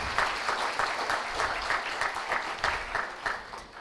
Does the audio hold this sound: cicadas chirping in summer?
no